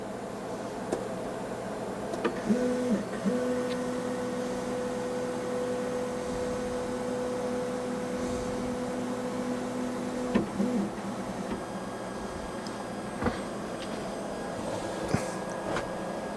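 A 3D printer fitted with a BondTech LGX extruder homes its axes, giving sustained stepper motor whines that hold steady for several seconds with a few short clicks, over a constant fan hum.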